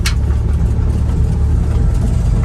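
A Daihatsu HiJet Jumbo mini truck pulls away in third gear. Its small engine gives a steady, loud, low drone heard from inside the cab and holds constant throughout.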